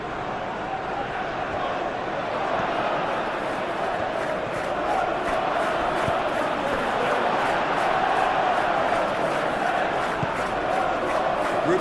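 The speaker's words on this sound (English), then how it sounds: "the crowd are reacting to that now" A stadium crowd roars and murmurs in the PES 21 football video game during a Manchester City versus Liverpool match, a dense, steady wash of noise that swells slightly throughout.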